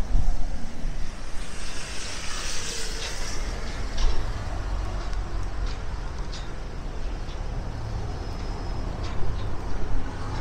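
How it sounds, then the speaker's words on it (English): Strong wind roars and buffets the microphone in a steady, dense rush over crashing surf on the Blackpool promenade during Storm Barra, loud and continuous throughout with gusts swelling and easing. "Ooh, it's windy out here, believe you me."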